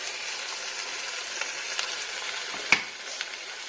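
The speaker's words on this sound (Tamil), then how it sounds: "இந்த ஸ்டேஜில் நம்ம அரைச்சி வச்ச இந்த தக்காளி விழுதை இதில் போடுறோம்" Bright, steady sizzling as ground tomato paste hits a hot pan for tomato kurma, with a few sharp crackles and pops, close and alone without talk.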